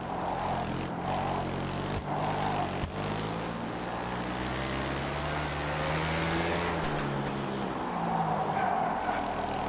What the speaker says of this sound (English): this definitely sounds like a 4-stroke rather than a 2-stroke